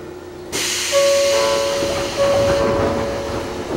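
Door-opening chime on a Sotetsu train arriving at Yayoidai station, the same chime as the N700 Shinkansen: two clear electronic tones ring out over the steady hum and hiss of the train interior.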